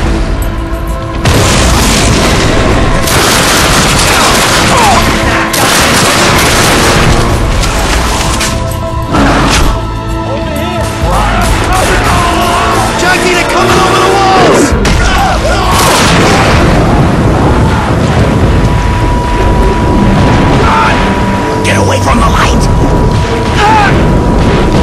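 Gunfire and heavy booms from the video game The Darkness 2 pound almost continuously and loudly, with a voice talking over the dense combat noise.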